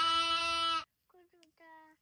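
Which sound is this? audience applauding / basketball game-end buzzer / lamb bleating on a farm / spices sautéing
lamb bleating on a farm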